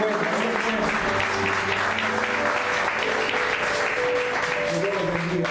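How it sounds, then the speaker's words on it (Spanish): A church congregation claps together as an offering of praise, a dense, sustained burst of applause with cheering and voices mixed in beneath a steady musical hum. "Den una ofrenda de palmas a Dios"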